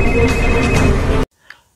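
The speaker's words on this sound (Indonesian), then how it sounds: "Porus yang mendapatkan nomor telepon Divya langsung menelponnya." A telephone ringtone sounds loud and continuous for over a second as an incoming call rings in a film, then cuts off abruptly into near silence with a faint brief blip.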